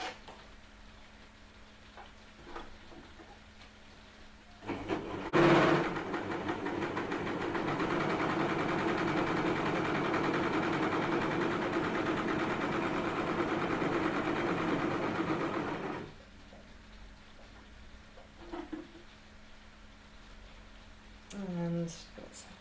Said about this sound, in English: let's go back to the stitching out the 4-thread overlock.